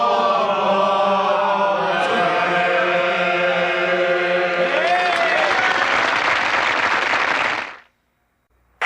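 A huge stadium crowd at the Super Bowl in the Louisiana Superdome, New Orleans, applauds in a loud, sustained roar of clapping and cheers that carries on for several seconds before cutting off abruptly.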